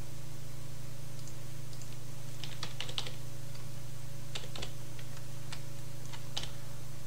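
Code being typed on a computer keyboard, scattered light key clicks in small clusters over a steady electrical hum.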